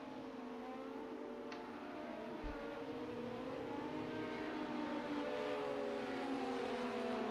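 LMP1 race cars warming their tires at Spa in a racing video game, engines droning steadily with layered harmonic whine throughout, no talk.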